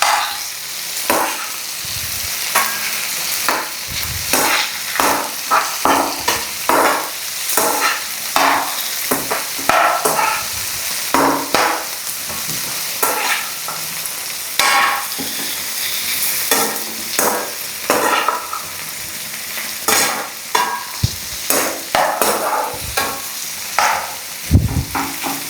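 Tomatoes sauté in a hot pan for a fish curry, giving a steady sizzle punctuated by repeated scraping stirs of a spoon against the pan.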